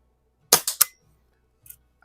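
A repaired Crosman 73 Saddlepal CO2 air gun fires running low on gas: three quick, sharp cracks in close succession, then a fainter click or two, recorded close in a quiet setting.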